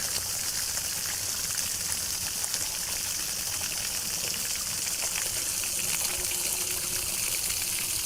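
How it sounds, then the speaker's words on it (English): Water from a simple garden waterfall rushing downhill, a steady broadband hiss of flowing and splashing water that stays constant and fairly close throughout, with no talk. "You can see the water rushing downhill."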